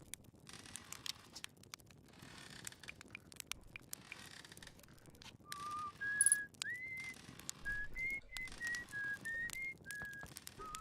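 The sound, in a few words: character whistling in the video game Outer Wilds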